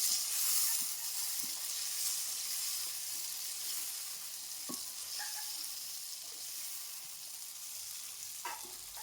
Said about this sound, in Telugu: సో ఇప్పుడు నేను కట్ చేసిన టమాటాలు వేస్తున్నాను. ఒకసారి తిప్పుకుందాం.